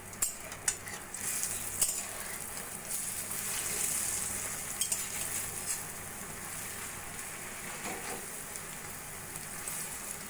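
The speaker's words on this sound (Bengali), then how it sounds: "এখানে আমি 5টা বড়া ভাজার জন্য ছেড়ে দিয়েছি।" Five lentil fritters (bora) fry in oil with a continuous close crackling sizzle, broken by sharp pops and a few light utensil clicks; no one speaks.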